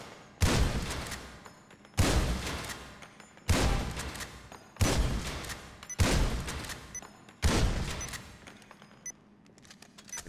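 Shotgun gunfire in GTA V: six loud, evenly spaced blasts about every second and a half, each decaying into a short echo, with faint game ambience between shots.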